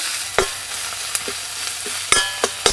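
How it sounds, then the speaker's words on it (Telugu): Onions with masala, turmeric and salt stirred in a hot pan, a steady sizzle broken by several sharp scrapes of the spoon against the metal, close and fairly loud with no voices. "ఇప్పుడు ఇదంతా పచ్చివాసన పోయే వరకు 2 నిమిషాలు బాగా కలుపుకోవాలి"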